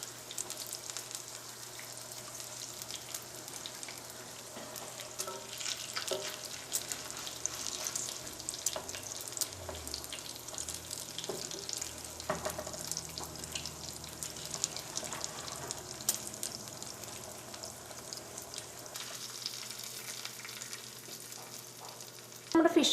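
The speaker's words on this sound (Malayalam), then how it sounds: "ഇനി നമുക്കൊരു മീഡിയം ഫ്ലെയിമിലിട്ടിട്ട് ഈ മീൻ നമുക്ക് വറുത്തെടുക്കാം" Fish fries in a pan on medium flame for a Kerala-style fish masala, giving a soft, steady sizzle and crackle that runs throughout, fairly quiet and with no talk.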